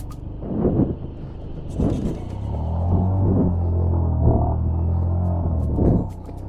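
A motorcycle throttles through a water crossing in Ladakh during the monsoon: its engine hums and rises in a low rumble, and splashing surges come in repeated bursts as the bike pushes through the stream.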